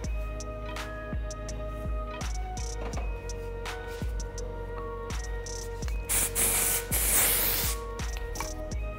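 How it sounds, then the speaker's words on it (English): Texture spray misted onto hair while styling a messy half top knot, a loud hissing burst near the end after lighter rustling and soft handling ticks, close up with no talking. "We're gonna use a little bit more texture spray."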